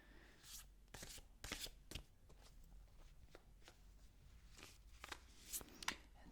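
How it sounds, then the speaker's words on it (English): Tarot cards shuffled thoroughly by hand give quiet, close riffling and slapping bursts in an uneven rhythm, soft and intimate with no talking. "I'm going to shuffle the cards thoroughly"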